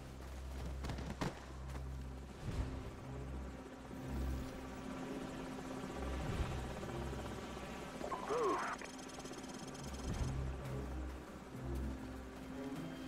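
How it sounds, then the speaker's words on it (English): Enemy helicopters in the video game Call of Duty Modern Warfare give a steady, low rotor drone throughout, mixed with game effects and a brief rising whine partway through. "Enemy helicopters."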